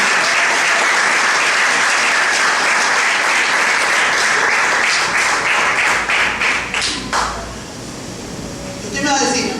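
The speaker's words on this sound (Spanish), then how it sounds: "¿Cuánto dicen amén de una fuerte aplauso al Señor?" A church congregation claps loudly and steadily in unison for several seconds, then the applause thins into scattered, fading claps near the end.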